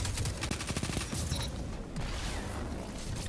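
Dense, overlapping gunfire and explosive weapon effects from a Destiny Crucible PvP match keep up a busy, continuous barrage of rapid shots and booms with no pause.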